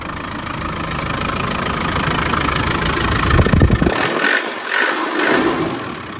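1996 Land Rover Defender 90 with the 300Tdi diesel engine idles steadily, a close, continuous clattery rumble with slight unevenness and no voices.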